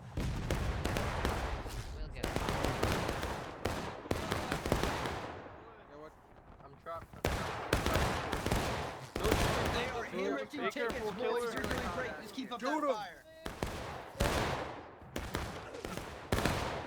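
Musket fire in the video game War of Rights, rapid clustered volleys of sharp reports crackling through most of the span, pausing briefly twice, with a voice speaking over the distant battle.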